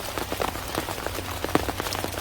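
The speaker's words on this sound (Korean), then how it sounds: "시원스럽게 비가 오네요" Rain falling steadily on a weekend vegetable farm with tomatoes and perilla plants, a dense, loud, close patter of drops on surfaces with no talking.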